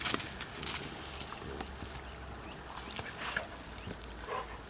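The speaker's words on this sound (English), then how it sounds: "this is not my dog, it's my aunt's dog that I sometimes borrow" A borrowed dog moving around outdoors, with rustling footsteps and scattered soft panting and snuffling close by, continuous over a low background.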